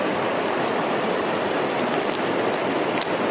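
Mountain stream water rushing steadily and close by in a forested hill area, a dense continuous broadband wash with a few faint higher splashes near the end and no talk over it.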